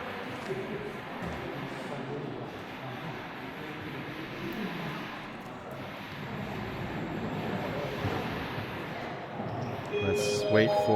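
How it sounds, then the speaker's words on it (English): A train pulls into a station on a Beijing rail trip, a steady low rumble with rising loudness and squealing at the end, heard under a speaking voice. "Let's wait for the train to pull into the station."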